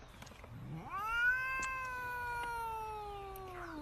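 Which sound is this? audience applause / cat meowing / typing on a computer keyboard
cat meowing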